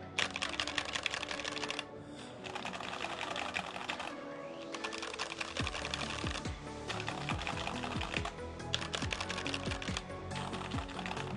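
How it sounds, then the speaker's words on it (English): Rapid bursts of keystrokes on an NK65 Entry Edition mechanical keyboard fitted with Tealio V2 switches, close and clicky-thocky, continuous typing with brief pauses and occasional low thuds between runs. "let's do a typing test. Let's see which one sounds better."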